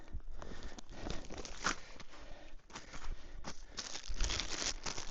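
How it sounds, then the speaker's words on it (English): Plastic bag crinkling and rustling as it is handled outdoors in snow while a survival shelter is set up, with irregular crackly bursts of varying loudness that run through the whole stretch and no talk. "Or we can use a plastic bag."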